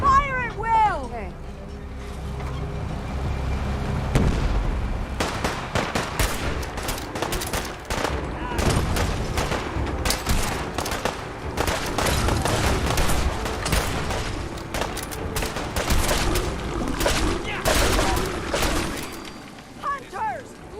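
Defenders open fire in Fallout 4, with dense bursts of gunshots and rattling volleys coming after a shouted command. The shooting sits under voices and game clamor for most of the stretch.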